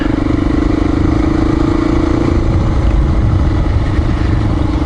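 A Honda XR400R motorcycle rides along lakeside roads, its single-cylinder engine thumping steadily and loudly at close range under heavy wind rush, with no talking.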